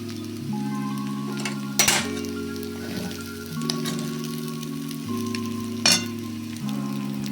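Fish-head muri ghonto with a spoonful of ghee sizzles steadily in the pan, while a low tonal hum runs beneath and a couple of sharp clinks ring out, with no one speaking.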